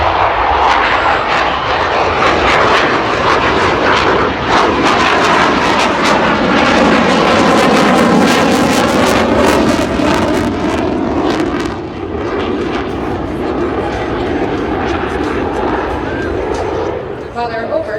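CF-18 fighter jet at the Abbotsford airshow, a loud sustained roar that swells and shifts as it passes, with a voice talking over it throughout.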